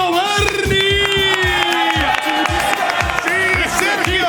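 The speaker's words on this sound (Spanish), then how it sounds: "Voy a pedir un muy fuerte aplauso" Studio audience of a Spanish-language talk show applauding and cheering as a guest enters, dense continuous clapping with rhythmic stomping and music underneath, loud and close throughout.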